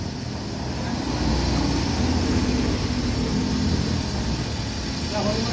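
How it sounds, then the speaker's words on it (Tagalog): A Suzuki car engine idles with a steady, even hum at close range while people talk over it. "normal na yung idling niya, wala na yung check engine"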